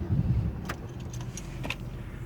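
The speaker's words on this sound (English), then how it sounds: "Start the car." Keys jangle in the ignition of a 2003 Chevrolet Impala with a Passlock anti-theft fault, with faint clicks over a low, steady engine rumble. The sound is quiet and fairly close.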